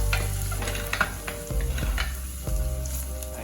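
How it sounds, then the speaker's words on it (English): Minced garlic sautés in a pan for a homemade lasagna Bolognese, a steady sizzle broken by several sharp clicks and scrapes of a utensil against the pan. "Add minced garlic. Saute the garlic first"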